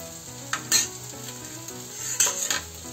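Garlic cloves and cumin seeds sizzle in hot oil for a desi-style matar nimona, a steady crackling hiss with two sharper bursts as spices hit the pan, close and fairly quiet, no voices.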